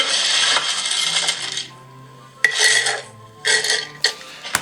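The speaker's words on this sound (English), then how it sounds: "And now fill your blender jar 3/4 full of ice." Ice cubes are poured into a blender jar for margaritas, coming in three bright, rattling bursts of clattering cubes separated by short pauses.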